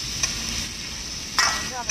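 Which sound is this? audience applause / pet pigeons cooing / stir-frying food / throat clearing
stir-frying food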